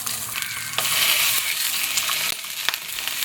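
Milkfish (bangus) sizzles loudly in hot cooking oil, a steady broadband frying hiss close up with a few sharp spatters and pops, no voices.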